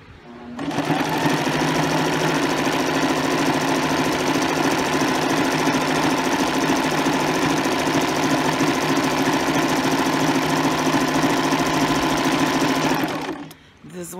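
A sewing machine sews cording in one long, loud, unbroken run of about twelve seconds. Its motor whir and rapid needle chatter are close and constant, then stop abruptly.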